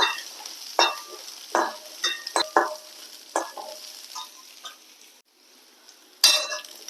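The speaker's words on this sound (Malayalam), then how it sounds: "ഈ ഉള്ളിക്കും ഇഞ്ചിക്കൊക്കെ ഒരു മണം ഉണ്ടല്ലോ, അത് ഒന്ന് പോണ വരെ ഒരു 2 മിനിറ്റ് ഒന്ന് വഴറ്റിയെടുക്കുക" Onion and ginger being sautéed in a pan for coconut chammanthi, a soft background sizzle punctuated by repeated sharp scrapes and clinks of a spoon stirring against the metal, close and irregular, without speech.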